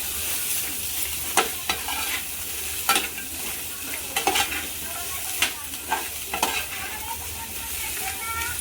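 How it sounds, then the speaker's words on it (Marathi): Garlic, chilli and coriander stems sauté in hot oil for amla chutney, a steady sizzle broken by several scraping stirs of a spatula in the pan, close and without talk. "छान असं परतून घ्यायचं"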